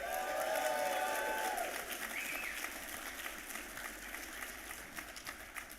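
A crowd at a drag racing Hall of Fame induction ceremony applauds and cheers in a sustained, dense wash of clapping. A few whoops rise early on, then the applause gradually tapers a little.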